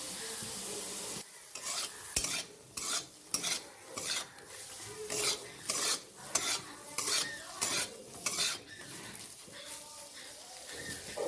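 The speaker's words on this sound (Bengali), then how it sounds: "এবার সয়াবিনগুলো ভালো করে ভেজে নেব।" Soybean chunks fry in a pan with turmeric and salt, sizzling steadily while a spoon scrapes and stirs in rhythmic strokes. The scraping is close and repeated, over a constant hiss of frying.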